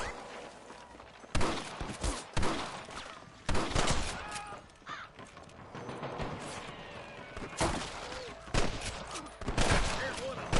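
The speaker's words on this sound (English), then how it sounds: "I can hear more gunshots." Gunfire in the Western video game Red Dead Redemption: scattered rifle and pistol shots crack out at irregular intervals, some close and sharp, others distant, with voices shouting between bursts.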